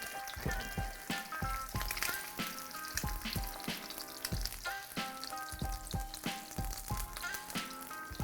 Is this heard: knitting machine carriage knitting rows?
no